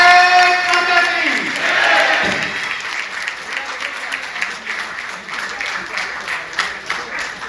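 Loud, sustained applause from an audience at a Dussehra Shastra Puja gathering, dense clapping that swells early and continues steadily to the end, with a faint voice at the very start.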